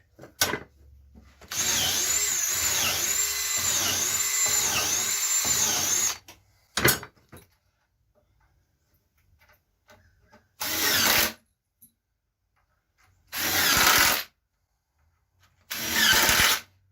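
A power drill drives 2.5-inch deck screws into a wooden woodworking jig in loud, close whirring runs, one long steady run followed by several short bursts with silent gaps between.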